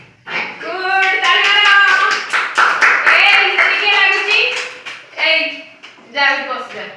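Children clap their hands during a classroom game, scattered sharp claps mixed with loud, close children's voices chanting and calling out.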